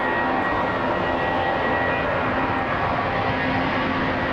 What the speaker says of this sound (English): And we've got Jetstar rolling now.